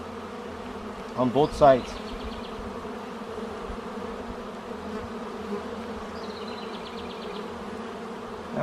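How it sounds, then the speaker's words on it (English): Honey bees swarm over beehive frames during an inspection, a steady close buzzing drone throughout with a brief burst of louder activity early on and a few spoken words. "There's lots of bees now."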